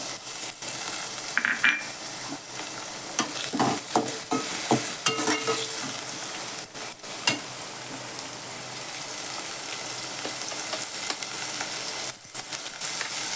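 Onion and tomato frying in a pan, a continuous close sizzle and crackle with scattered sharper pops and spatula scrapes throughout, no talking.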